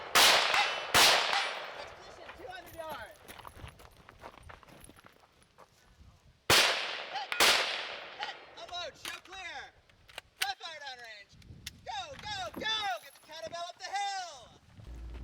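Handgun shots from a Glock 34 Gen 5 with a Timney trigger at a match stage, sharp loud cracks in quick clusters with pauses between, under other noises and a voice speaking.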